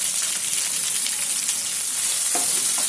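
Chopped onions and green chillies frying in a pan and being stirred, a dense constant sizzle with light crackling and a scrape or two near the end, close and loud, no talking.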